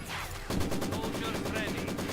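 Rapid machine gun bursts in Company of Heroes 2, a steady rattling stream of shots from about half a second onward, loud and continuous over a dense battlefield din, with a voice talking underneath.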